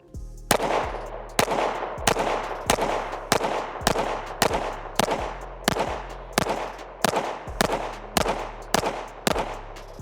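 Rapid string of loud, sharp pistol shots from a Staccato HD C4X, roughly a dozen evenly spaced cracks close by, with no talking between them.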